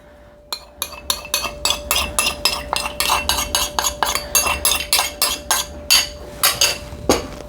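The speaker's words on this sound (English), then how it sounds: "we're going to go ahead and stir that in too, as well" A spoon stirs melted unsalted butter into blueberry waffle batter in a bowl, making a rapid run of sharp clinks against the bowl that repeat steadily and close up, with no voices.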